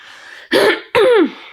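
Two harsh, forceful coughs or throat-clearing bursts, close and loud, separated by a brief pause over a steady background hiss.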